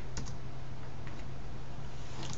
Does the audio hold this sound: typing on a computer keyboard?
yes